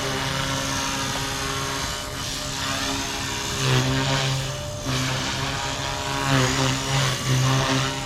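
Blade Fusion 180 smart RC helicopter flying close by, its motor and rotor whine steady and loud, rising and falling in pitch as it maneuvers.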